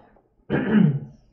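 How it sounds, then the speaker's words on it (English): A single short, close throat clearing, a low gravelly rasp lasting under a second, otherwise quiet. "Clear my throat."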